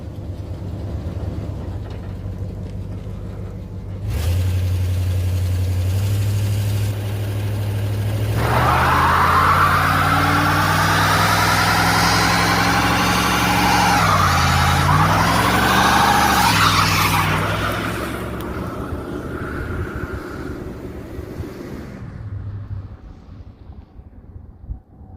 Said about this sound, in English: big block granny car burnouts